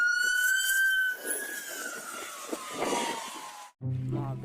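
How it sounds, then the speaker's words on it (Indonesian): A toy ambulance siren wails loudly and close in one long tone that slowly slides downward before cutting off abruptly, leaving a brief rattling toy noise afterward. "keluarlah mobil ambulan."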